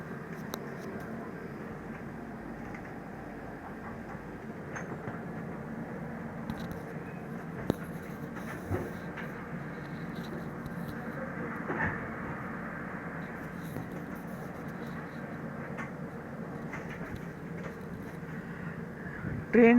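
A Humsafar Express train rolls steadily along the rails just after departing, a continuous low rumble heard from inside the coach with faint clicks of the wheels over joints.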